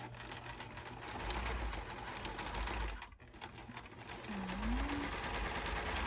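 A sewing machine stitching slowly over rope while sewing a DIY hanging organizer, a close rapid mechanical whirring that runs continuously, dips briefly in the middle, then resumes.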